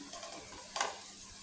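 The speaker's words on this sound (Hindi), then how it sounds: "ये खड़े मसाले में डालती हूँ क्योंकि इसका टेस्ट और खुशबू बहुत अच्छी आती है। इसको कुछ टाइम इसमें फ्राई करती हूँ।" Whole spices fry with onions in hot oil, a soft continuous sizzle with a brief brighter spatter burst near the middle, quiet and close.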